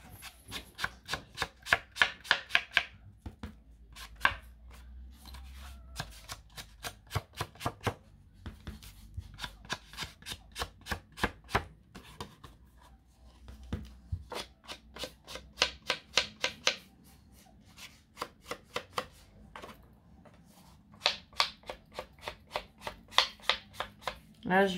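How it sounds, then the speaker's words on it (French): Rapid, rhythmic scraping strokes of a nail file in repeated bursts, close and fairly quiet, with brief pauses between runs and a voice murmuring underneath. "Elle est en train de se limer un ongle."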